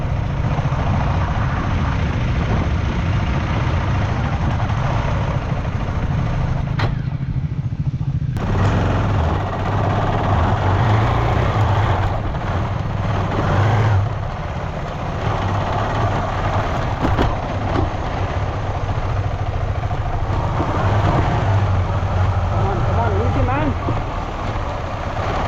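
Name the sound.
off-road motorcycle engine idling and moving on clutch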